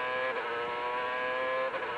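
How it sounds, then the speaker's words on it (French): An Indy race car at Laguna Seca Raceway braking hard into a corner, its engine a steady high-pitched drone with a dense stack of harmonics, loud and sustained for two seconds. "Il revient très fort au freinage Montoya sur Kenny Braque"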